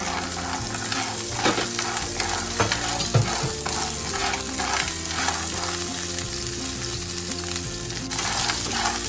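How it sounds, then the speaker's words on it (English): Asari clams hit a hot pan with garlic over medium heat, giving a continuous bright sizzle with scraping stir strokes and occasional clatters, while soft background music plays underneath. "When the garlic's aroma comes out, add asari and fry quickly."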